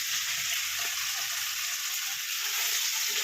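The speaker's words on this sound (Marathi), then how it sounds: "इथे फ्राय करणं चालू आहे" Fish frying in a pan as a steady, close, continuous sizzle with a bright hiss that holds evenly throughout, no voices present.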